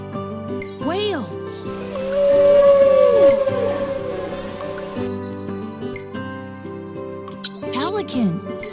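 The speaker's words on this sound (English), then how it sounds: "whale" A whale gives one long, rising and falling tonal moan lasting over a second, alone over soft background music, with a voice speaking briefly before and after.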